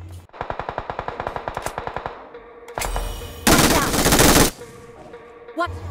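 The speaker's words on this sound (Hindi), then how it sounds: "यहाँ पे पीछे से भी गोली पड़ रही है" Automatic gunfire in PUBG Mobile (BGMI) during a tense firefight: a rapid, evenly spaced burst of loud shots, then a pause and a dense, roaring volley of fire, ending with a short crack.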